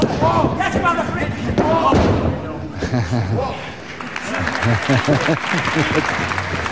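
Boston wrestling crowd at a World of Sport bout cheering and applauding loudly and steadily across the whole stretch, with a dense roar of voices and claps and a brief dip in the middle before it swells again.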